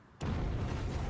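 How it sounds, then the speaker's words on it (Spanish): A huge bomb blast in a busy shopping district in Omagh, Northern Ireland, bursts in abruptly as a loud, deep roar that rumbles on without a break. "Una enorme explosión destroza el corazón de la bulliciosa zona comercial."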